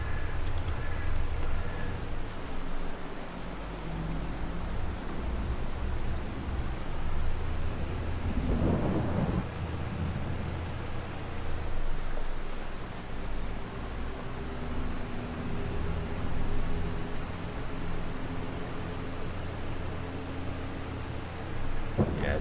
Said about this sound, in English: Absolutely love the sound of rain and storms.